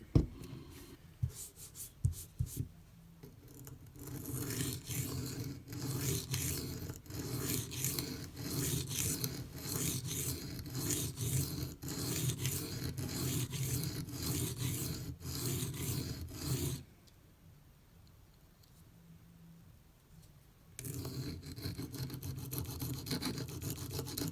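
Microtech UTX-70 knife blade stroked across a Venev pocket diamond stone, a close rhythmic rasping scrape of repeated light passes, with a pause before the strokes resume.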